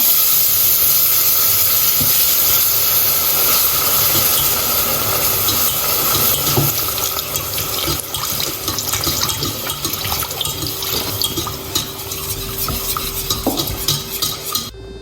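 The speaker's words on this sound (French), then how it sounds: "Après avoir fait cuire donc mon huile et ma farine, donc je verse le lait froid" Cold milk poured into a cooked olive oil and flour roux for béchamel, a loud steady hiss and bubbling sizzle giving way to rhythmic whisking and stirring, close by with no speech.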